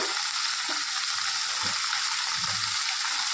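Stuffed brinjals frying in oil in a pan, a steady bright sizzle with soft crackles and faint stirring scrapes, close and continuous.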